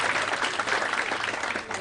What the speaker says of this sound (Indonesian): Tepuk tangan untuk Anda.